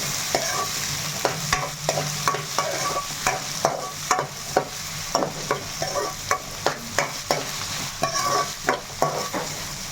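Onions frying in a wide kadai with a pinch of salt, a steady sizzle broken by repeated scraping stirs of a spatula against the pan, close and fairly loud, no voices.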